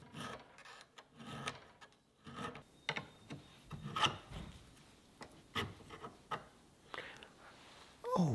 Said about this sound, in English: I'm going to have to file the inside out slightly